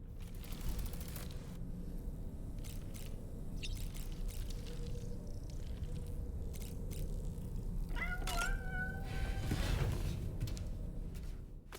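A cat meows in Death Stranding 2: On the Beach. A drawn-out meow rises near the end over a steady, noisy game ambience.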